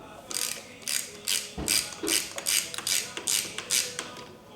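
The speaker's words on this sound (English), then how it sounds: "19mm socket." A ratchet with a 19mm socket clicks in quick, regular bursts while tightening on the brake-lever side of a Ducati Monster, close by with no talk over it.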